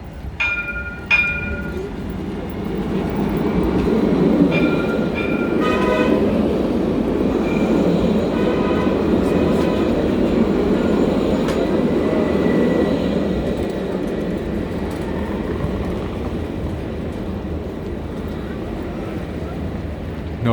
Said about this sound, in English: I'm crossing over carefully before the right train comes my way.